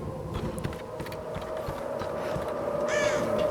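Crow-like caws ring out in the Tomb Raider video game, a few harsh calls over a steady background drone of game ambience, fairly clear but not close.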